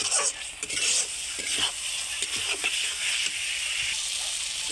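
Masala being stirred and sautéed in a pan for a pomfret mustard curry, with a steady hiss and sizzle, spatula scrapes and clicks close by, and a faint voice underneath.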